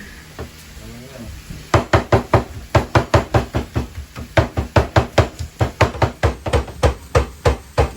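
Chicken is chopped with a knife on a cutting board for teriyaki chicken and rice; a fast run of sharp, close, evenly spaced knocks starts after a short pause, and a voice talks quietly near the start.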